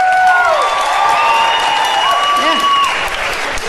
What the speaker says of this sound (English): Applaud if you got kids, applaud real big.